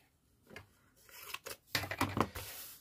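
Scissors cutting through paper or card in a paper-craft build, a few short crisp snips building to a quick cluster of louder close cuts, with no voices.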